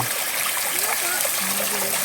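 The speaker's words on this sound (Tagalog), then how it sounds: "Ito, pwedeng mainom dito, Jim, no? Ayan, bukal" Spring water flows steadily into a river, a continuous close rushing and gurgling wash with a voice faintly audible over it.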